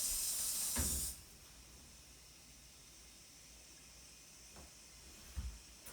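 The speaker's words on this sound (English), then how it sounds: "have a spray bottle so you can spray this thing" A spray bottle misting water onto a temporary tattoo: one loud hissing burst lasting about a second, followed by quiet room tone with a couple of faint taps.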